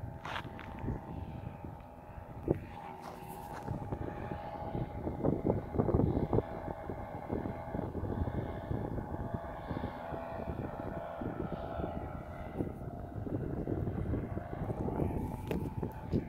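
A small aircraft takes off near a desert boondocking campsite at the Salton Sea, its engine a sustained droning roar that builds and holds steady for the whole stretch, with no voices.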